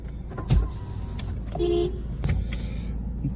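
A Mahindra XUV500 SUV starts up close by: a brief starter whir, then the engine catches and settles into a low running rumble, with no talk.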